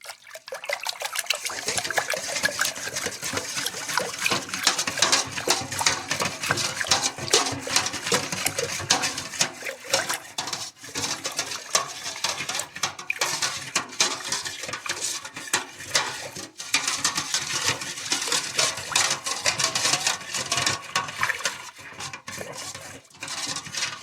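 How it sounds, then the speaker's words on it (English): Homemade wine mixture stirred in a pot after Red Star active dry yeast is added, a steady watery sloshing and swirling that runs close and continuous for the whole stretch, with no voices. "Lots of stirring, lots of air"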